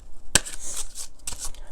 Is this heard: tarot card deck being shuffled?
yes